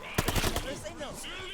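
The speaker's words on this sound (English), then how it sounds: "I couldn't even hear them properly over the gunfire and constant fighting of zombies" Automatic weapon fire in Call of Duty Vanguard Zombies: a short rapid burst of loud shots, then fading game effects and sweeping tones under a busy fight against zombies.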